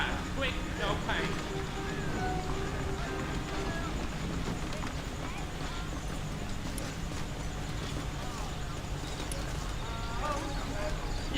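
Horse hooves clip-clop steadily in the Red Dead Redemption video game as saddled horses set out from a town, heard under ongoing speech and background game sound.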